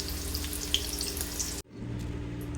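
Cut potatoes fry in hot oil in a pan for a peas, potato and paneer dish, giving a steady, dense sizzle that dips for an instant and then carries on slightly softer.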